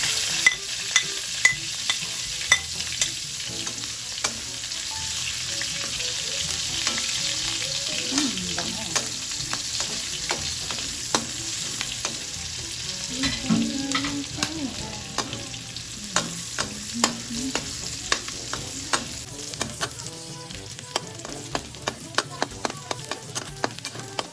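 Onion and garlic fry steadily in a pan for pinakbet with pork and alamang, a continuous close sizzle with scattered spatter pops and occasional scraping stirs.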